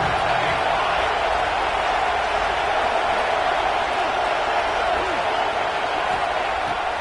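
Steady roar of a large football stadium crowd during a Texas A&M game, a dense continuous wash of cheering and noise at constant loudness with no clear peaks, no distinct talk on top.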